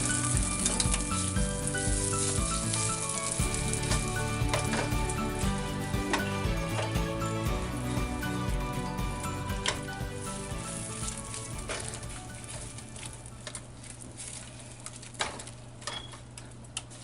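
Butter sizzles in a pan for a sauce while chicken cordon bleu stuffed with spinach is prepared, a steady dense frying hiss that carries on unbroken, with a few light clicks and knocks on top and no voices.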